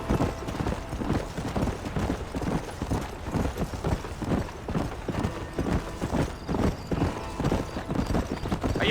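Horse galloping in Red Dead Redemption, a fast, even drumming of hoofbeats that stays loud and continuous, with only faint talk in the background.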